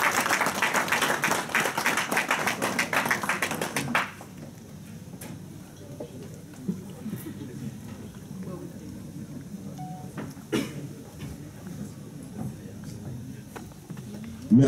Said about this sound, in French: Donc avec vos applaudissements, s'il vous plaît.